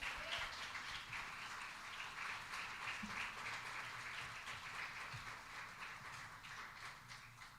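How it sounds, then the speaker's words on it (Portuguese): A church congregation applauds at a Sunday communion service, a steady dense wash of many hands clapping that holds at an even level throughout, with a faint low murmur underneath. "Aplauda Jesus."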